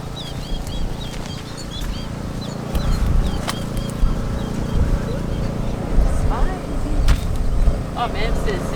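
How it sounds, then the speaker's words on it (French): Small birds chirp outdoors in short, high, scattered calls, fairly faint under a steady background hum with people talking nearby. "Entendez-vous des petits oiseaux?"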